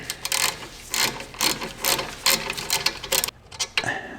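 Lower brake caliper bolt on a Dodge Grand Caravan being undone with a ratchet, a close, loud, rapid run of metallic clicks in short bursts, with no talk.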